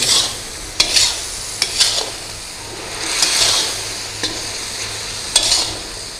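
Beef stirred in a pot over a flame after long cooking, with a continuous sizzle and several sharp metallic scrapes and clinks of the spoon against the pot at irregular intervals.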